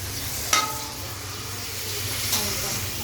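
Mustard oil heats in a pan for a home-style chicken bhuna, giving a soft, steady sizzling hiss broken by two brief sharp clicks.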